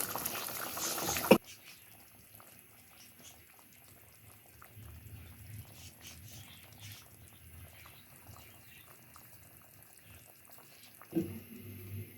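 Beef korma gravy simmering in a pot, a soft low bubbling that stays quiet and steady for about ten seconds, framed by brief louder handling noises at the start and near the end.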